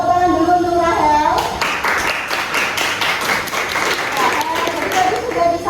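Students applaud Rahel in a classroom after her presentation on GERD; a teacher's voice speaks first, then a loud burst of clapping takes over and continues for several seconds.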